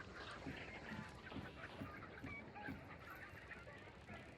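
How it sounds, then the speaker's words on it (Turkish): Dense flock noise of clucking and honking chickens in Hunt: Showdown, a busy low-level chatter with faint rhythmic calls throughout. "şu tavukları sustursana"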